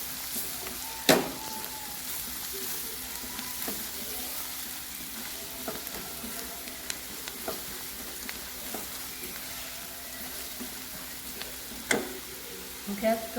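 Turmeric and coriander powder sizzle softly in a pan while vegetables cook, a steady low fry with occasional clicks and stirring scrapes, and a voice speaks now and then over it.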